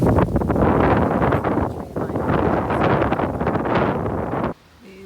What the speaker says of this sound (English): there's so much wind because it's coming off the lake almost all the time